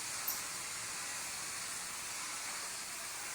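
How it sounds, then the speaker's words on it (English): A Dupray Neat vapor steamer cleaning an old, never-cleaned VCT floor gives off a steady, close, high hiss of escaping steam that runs unbroken throughout. "this steamer that we're using, it's called a Dupray Neat"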